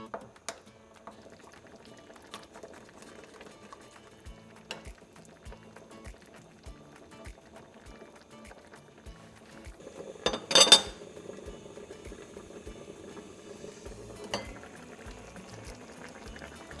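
A pot of Korean budae jjigae army base stew simmers quietly on the stove, with soft steady bubbling, a brief louder clatter of pots or utensils midway and a few light knocks.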